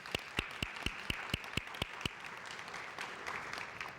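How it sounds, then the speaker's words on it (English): A conference audience honoring instructors at a museum and parks history event gives a short burst of loud, evenly spaced claps that then softens into a thinner, scattered patter. "A round of applause, please, for the instructors."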